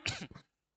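A single short, sharp cough from a teacher during a biology class, one close burst lasting under half a second before silence.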